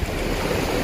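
Ocean waves at high tide wash and surge around a raft at a marine sanctuary, a dense, steady roar of surf with wind buffeting the microphone.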